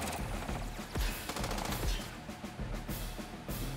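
Rapid bursts of gunfire in a battle from the video game Advance Wars 2, several sharp shots over a busy game soundtrack, fairly quiet overall.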